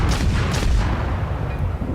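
A German battleship fires a cannon volley in World of Warships, a heavy rolling boom that fills the opening second loudly and then decays into a low rumble.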